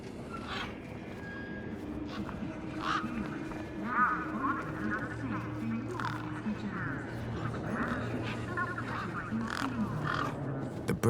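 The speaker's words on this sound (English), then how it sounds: "These were tough desert birds." Tough desert birds in the video game Beyond a Steel Sky give repeated harsh, quacking calls over a low ambient hum, with a voice speaking intermittently.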